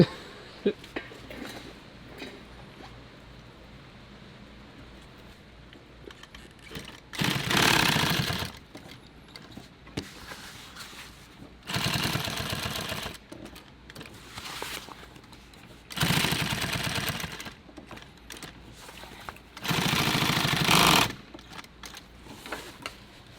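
A sewing machine stitches a large water bottle pouch in four loud, steady bursts of rapid whirring, separated by quieter pauses with faint handling noise and brief speech.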